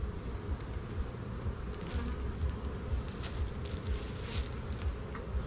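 Honey bees buzzing around an opened hive during a colony split into five-frame nucs, a dense continuous close drone of many bees with no talking.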